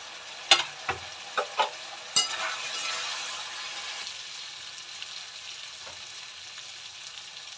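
Potato curry with spices is sautéed and stirred in a pan. Several distinct spatula scrapes and clanks come early over a steady, close frying sizzle, which then continues more evenly and quietly to the end.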